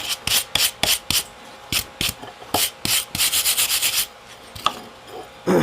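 A tool scrapes scale off hot metal at the forge while a grappling hook is being made. The strokes come close and loud in quick bursts, then a steady run of evenly spaced scrapes and a few sharp ones at the end.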